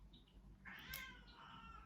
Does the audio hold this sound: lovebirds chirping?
no